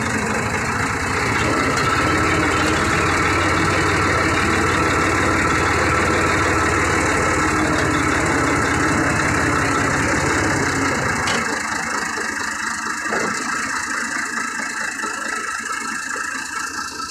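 A Ford 3000 tractor engine idles with a steady low throbbing rumble close by, its heavy chug easing off somewhat toward the end.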